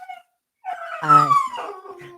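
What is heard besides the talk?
dog whimpering and howling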